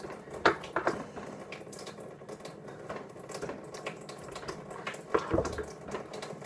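Hands rinsed under a running tap while cleaning feathers off a mallard duck, with soft, intermittent splashing and trickling water and a few louder bursts, faint and close with no voices.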